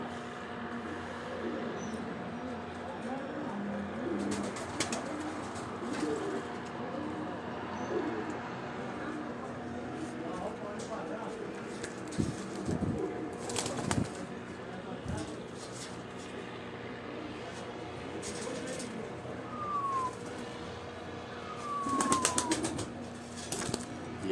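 A pigeon coos on a rooftop in Rawat, with soft repeated calls over steady outdoor background noise, a few wing flaps and brief louder bursts near the end.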